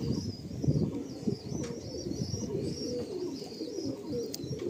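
Pigeons in a loft coo steadily in low, overlapping throaty calls, with a few higher chirps and brief wing flutters, close and fairly quiet.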